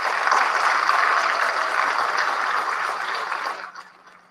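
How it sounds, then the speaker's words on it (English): A large audience at an exam results announcement breaks into a sustained round of applause, a thick, even wash of clapping that holds for over three seconds and then quickly tapers to silence. "she deserves another round of applause"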